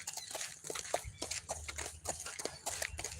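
A horse walking on a farm near the barn, with a soft, steady clip-clop of hooves repeating close by over a continuous noisy background; no talking.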